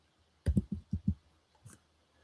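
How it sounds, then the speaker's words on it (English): Quick keystrokes on a computer keyboard, about five close clicks in a fast burst followed by one more after a short pause, in a quiet room. "If I could type faster, it'd have been up here faster."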